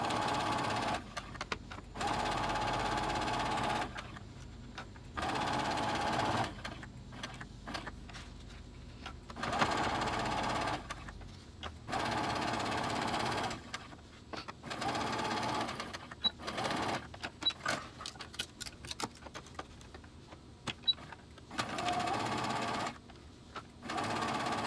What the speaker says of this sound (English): Now we can sew it.